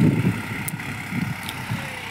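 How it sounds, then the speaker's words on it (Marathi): A tractor works a farm field, ploughing it, with a steady low engine rumble that rises and falls slightly. It is heard at a moderate distance with no talking. "मग ट्रॅक्टर आता हे शेत मोकडेल."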